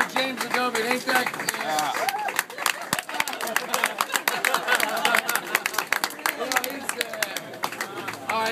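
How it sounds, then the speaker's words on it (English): Street-show crowd in Los Angeles applauding and cheering for comedian Todd Glass, dense clapping and chatter sustained throughout at close range, with voices mixed into the ovation. "Folks, please give him a nice warm round of applause."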